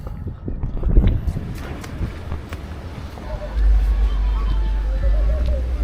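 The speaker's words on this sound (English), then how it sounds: "Because it's so windy today" Strong wind buffets the microphone with a low, rumbling roar that swells louder toward the end, with faint background noise underneath, at an anchorage in Bodrum.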